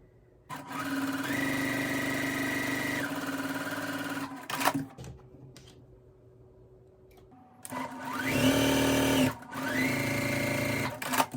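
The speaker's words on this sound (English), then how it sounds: "sew a line on each side of the drawn line" A sewing machine stitches quilt block pieces in two runs, a steady close mechanical whir that speeds and slows, broken by a pause with faint handling noises between, and no speech.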